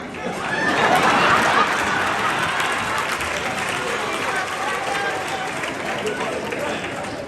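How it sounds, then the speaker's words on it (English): A crowd at a talk for a football players' gathering applauds Coach Brown with sustained, fairly loud clapping and cheering that swells in the first seconds and then holds, with crowd chatter mixed in. "You should be clapping."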